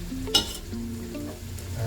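Beef biryani with freshly added chopped mint being stirred in a sizzling pan, a spoon scraping once sharply and then moving through the oily, frying meat, close and continuous, no talking.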